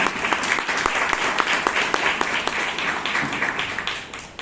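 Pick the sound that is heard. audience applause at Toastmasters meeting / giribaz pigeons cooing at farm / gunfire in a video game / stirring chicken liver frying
audience applause at Toastmasters meeting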